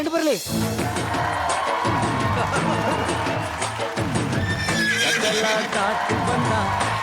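A loud horse whinny plays as a sound effect in a televised Kannada comedy skit. It rises sharply at the start, followed by repeated neighs and clip-clop hoofbeats over a busy, noisy backdrop.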